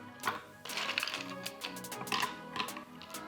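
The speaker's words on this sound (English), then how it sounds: "And then you just top it with ice." Ice cubes dropped into a glass of iced tea and lemonade make a few close, sharp clattering bursts with short clinks, over soft background music.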